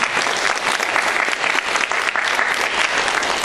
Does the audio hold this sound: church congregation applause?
yes